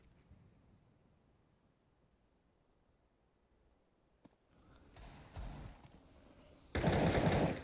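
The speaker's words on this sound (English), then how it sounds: "there's a headshot from Kree straight through the smoke as well" Counter-Strike match gunfire: after a quiet stretch, a sharp faint crack, then broadband bursts of firing building to a loud, dense volley near the end, with no talk over it.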